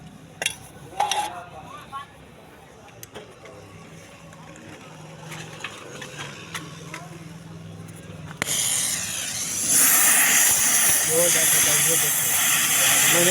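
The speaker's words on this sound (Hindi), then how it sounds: "ये इसके अंदर हम कान वेल्ड करने लगे हैं" Arc welding on a motorcycle headlight bracket being fitted to a rickshaw, a loud steady hiss and crackle starting midway and continuing, after quieter workshop clatter and voices.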